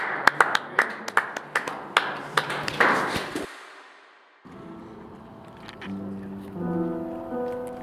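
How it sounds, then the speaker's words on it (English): A handful of sharp, separate hand claps from a single person or a very small group ring out in an uneven rhythm for about three seconds, then stop; a quieter tonal sound follows. "Check out this roar of applause."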